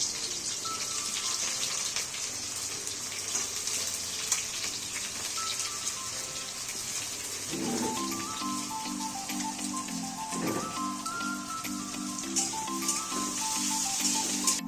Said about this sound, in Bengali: বেরেস্তাগুলো ভেজে নেওয়া হচ্ছে।